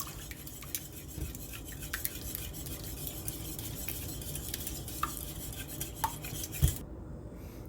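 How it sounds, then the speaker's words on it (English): Yogurt muffin batter with lemon juice whisked in a bowl, a soft continuous stirring swish with light clicks of the whisk against the bowl, close and quiet, with no talking. "so we're just going to whisk this together until it's really well combined."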